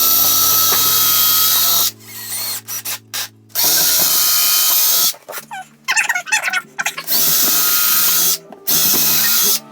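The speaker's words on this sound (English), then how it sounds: "We're gonna pre-drill these holes on the studs" A power drill pre-drills holes into wall studs for a mudroom hook wall, running in several loud bursts of whirring with short pauses and a few brief starts between them, close up and with no talking.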